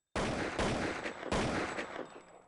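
Video game gunfire from an aimbot shooting at bots: two bursts of rapid, dense shots, each lasting about a second, loud and close with no talk over them.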